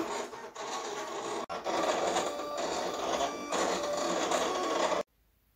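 A sticker cutting machine runs steadily, with a continuous mechanical whirring and rasping for about five seconds that breaks off briefly partway through, then stops abruptly, leaving near silence.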